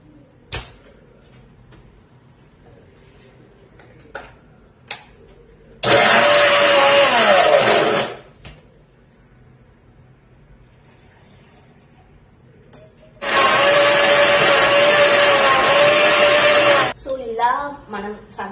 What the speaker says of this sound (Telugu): సో ఫస్ట్ ఇవి మొత్తాన్ని వేసి గ్రైండ్ చేసుకోవాలన్నమాట.